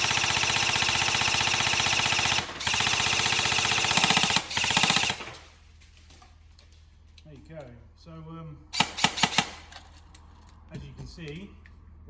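An upgraded Krytac Trident DMR airsoft AEG fires long rapid full-auto bursts with a buzzing mechanical rattle, then stops, followed by a few short bursts and clicks amid a quieter stretch where someone talks.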